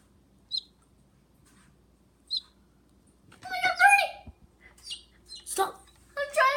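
A small bird chirping in a home: two brief, thin high chirps in quiet, then a busier stretch of louder tweets mixed with household noise and faint talk.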